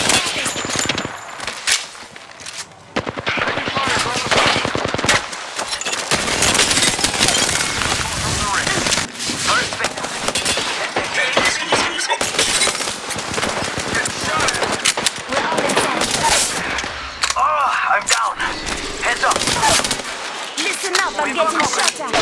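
Constant heavy gunfire from the Apex Legends video game, with rapid machine-gun bursts and single shots layered densely and loudly throughout, barely pausing, with a voice talking at times underneath.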